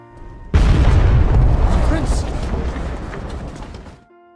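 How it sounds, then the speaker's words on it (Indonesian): In an Avatar animated series, a ship blows up from a bomb hidden aboard. A sudden loud boom hits and then rolls into a sustained, rumbling blast that fades out over about three and a half seconds. "kapal yang dia naiki tiba-tiba meledak karena ternyata seseorang diam-diam menaruh bom"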